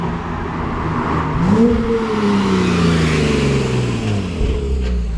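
A car engine revs up loudly with a rising then slowly falling pitch, close and dominant over steady road and cabin rumble, with no talking.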